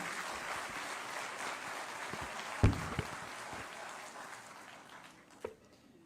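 Applause from an audience at a Teachers' Day teacher-honouring ceremony, a steady wash of many hands through most of the stretch, with a couple of sharper knocks, tapering off near the end.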